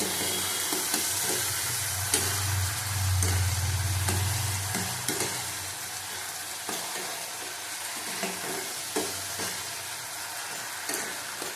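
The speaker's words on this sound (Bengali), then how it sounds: "একটু কাশ্মীর লঙ্কার গুঁড়ো দিলাম ভালো করে কষিয়ে নেব" Kashmiri chili powder and spices with a little water sizzle in a pan for a catla fish curry, a steady frying hiss broken by repeated spatula scrapes and taps while stirring.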